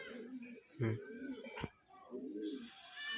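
A pigeon coos in low, rounded bursts, close by, with other soft bird sounds and some voice-like noise around it.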